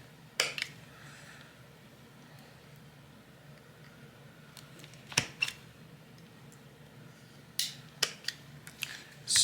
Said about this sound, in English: Bound fingerboard, so we gotta cut the tang off the fret just at the ends.